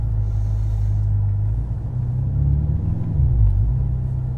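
An Audi R8 engine pulls away in first gear, a deep, close rumble that holds steady and then swells slightly as the car gets moving.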